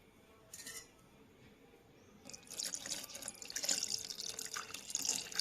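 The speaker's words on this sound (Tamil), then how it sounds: "பால் ஊற்றி நல்லா கலக்கணும்" Milk is poured into ground urad dal for ulundhu paal kanji and stirred. A quiet start with a faint clink gives way to continuous close splashing and sloshing liquid that grows louder toward the end.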